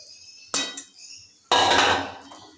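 Fried vegetables tipped into a pot of cooked moong dal, heard as two clattering bursts of metal pot and utensil contact, the second longer and louder, with quiet gaps between.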